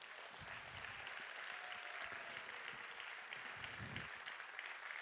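Sustained applause from a sizable crowd at a festival opening ceremony, even and continuous throughout, with a few louder claps and low rumbles within the clapping.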